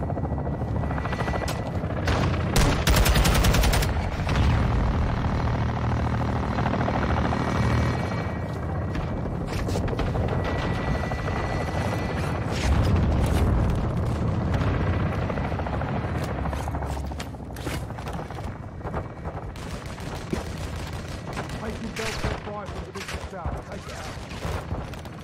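Air-support strike in the Modern Warfare 2 campaign: a helicopter's steady rotor drone runs throughout, with bursts of heavy gunfire and booming explosions layered on top, loud and close, while voices talk over the radio.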